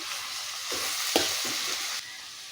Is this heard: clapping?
no